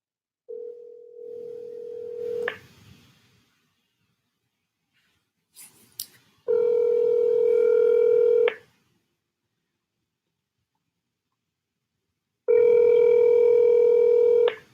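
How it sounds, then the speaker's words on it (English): A telephone call being placed: a steady dial tone, then a quick tap of keypad tones, followed by two long, loud ringback tones separated by silence. "Let me see if I can get him on the phone"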